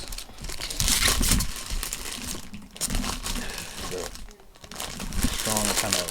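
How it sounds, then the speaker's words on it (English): Plastic packaging being cut and crinkled at close range, a steady run of crackling, rustling handling noise with a few louder crunches, with a speaking voice over parts of it. "I'm only cutting the plastic"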